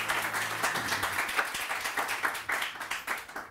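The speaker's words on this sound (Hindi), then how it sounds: "बहुत सारी तालियां।" A studio audience applauds on a morning talk show, a sustained, fairly dense patter of many hands clapping at moderate distance that carries on unbroken.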